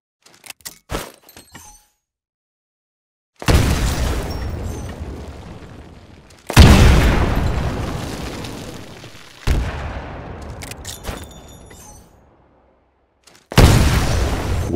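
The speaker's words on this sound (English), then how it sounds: "Throw a grenade into each of the windows." Grenades thrown into building windows explode in the video game Titanfall: a few faint crackles, then four heavy, loud blasts spaced a few seconds apart, each booming and fading away in a long rumbling tail.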